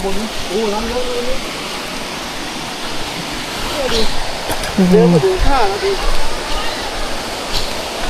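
Water pours steadily at Khlong Kratha waterfall, a broad, constant rushing wash up close, while people talk over it throughout.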